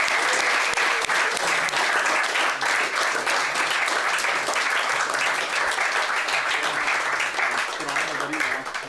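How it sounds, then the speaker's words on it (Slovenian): Loud, sustained applause from an audience at a round-table discussion on the EU's future and young people, a dense and even clatter of many hands that carries on throughout without a break. "Hvala lepa in bučen aplavz."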